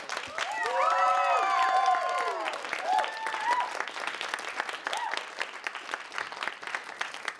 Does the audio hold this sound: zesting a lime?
no